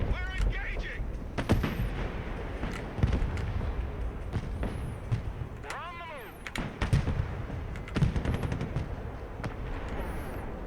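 Gunfire rattles through a video game infantry battle, with bursts of shots, booming artillery impacts and whooshing projectiles. Voices talk over the combat throughout.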